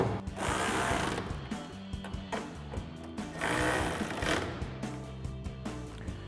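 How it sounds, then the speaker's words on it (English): Two 8mm screws are tightened with a socket while 2015-2020 Ford F-150 Morimoto XB LED tail lights are installed, giving a busy run of ratcheting clicks and rattles close by, fairly quiet overall. "then we'll take our 8mm socket and tighten these down."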